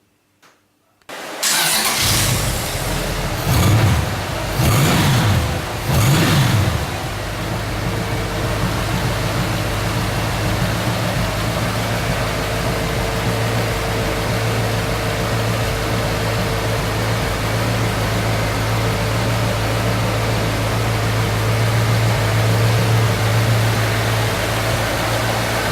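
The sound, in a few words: V8 motorcycle engine running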